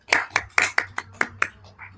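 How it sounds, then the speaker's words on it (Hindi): A group of children in a class claps hands in a short burst of about eight sharp, irregularly spaced claps, close and fairly loud, with no talking over them. "ताली बजाओ"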